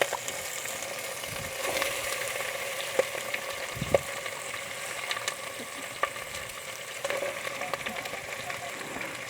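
Shrimp frying in a pan give a continuous crackling sizzle with scattered pops and a few utensil taps, moderately loud and close, with no talking.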